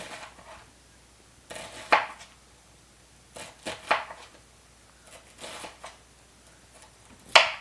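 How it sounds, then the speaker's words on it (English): A knife cuts onions on a board for smothered potatoes, making a few sharp taps and slices with quiet pauses between them. "I'm going to go ahead and cut it in half and then slice it."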